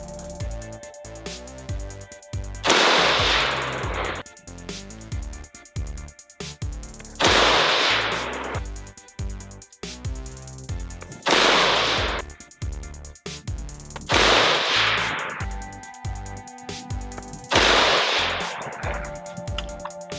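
Savage MSR 15 Recon AR-15 rifle firing five loud, sharp shots spaced several seconds apart, each a sudden blast with a quick fading tail, heard up close with no talking.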